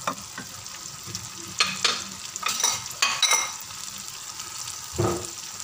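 Tomatoes and spices frying with golden onions in a pot for chicken tikka biryani, a steady sizzle with a few scraping stirs of a spoon and brief metallic clinks, close and moderately loud, with no talking.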